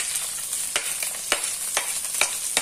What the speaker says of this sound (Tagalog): gisahin muna natin yung sibuyas